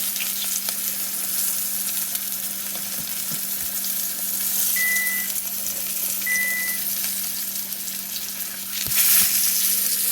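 Pork chops fry in hot grease with a steady, loud hiss and crackle that runs without a break, with a brief pop or two and no voices.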